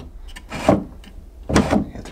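An old wooden nightstand drawer in an abandoned 1950s house is shoved shut in two separate rough, scraping pushes about a second apart, each a short grinding rasp close to the listener.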